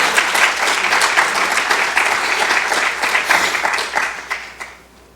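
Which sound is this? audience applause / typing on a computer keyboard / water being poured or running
audience applause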